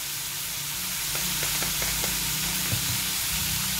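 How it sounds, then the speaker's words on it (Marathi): Onion and tomato fry together in a pan with a loud, steady sizzle and hiss, broken by a few light taps of a utensil near the middle, close and without voices. "पहा छान असं हे भाजत आहे अगदी व्यवस्थित"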